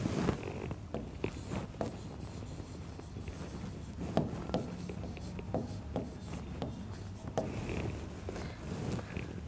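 Chalk or marker scratching across a board in a physics classroom, a steady run of short scraping strokes close by, with no voices over it.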